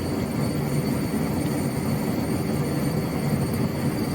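An Erickson SkyCrane heavy-lift helicopter in Microsoft Flight Simulator 2024 makes a steady, loud engine and rotor drone throughout, with a constant whine above the low rumble and no talking.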